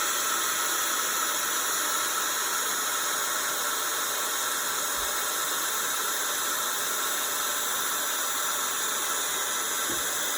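A steady, loud electric whirring hiss of a heat tool blowing hot air up close onto embossing powder runs unbroken for the whole stretch, with no talking.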